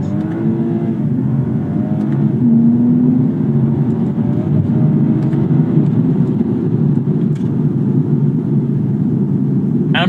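A BMW G42 M240i with the B58 engine and ZF 8-speed automatic pulls hard under acceleration, a loud steady cabin drone of engine and road noise running throughout with brief dips as gears change quickly.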